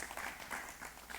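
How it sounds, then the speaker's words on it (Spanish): A brief burst of dense, close applause from a church congregation, a steady wash of many clapping hands with no voices. "Un aplauso al Señor, amén."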